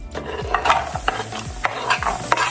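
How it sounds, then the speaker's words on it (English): Onions and butter cooking in a soup pot, a steady sizzle interrupted by repeated scraping stir strokes about every half second, close and fairly loud with no talking. "So you begin by melting the butter, and I'm gonna add the onions"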